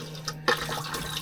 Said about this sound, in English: So I'll just give the tank a flush out.